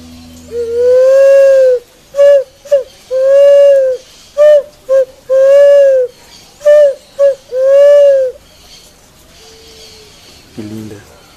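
A picazuro pigeon's deep, hooting song: long drawn coos alternating with short clipped notes in a repeated rhythmic phrase, clear and close, then quiet.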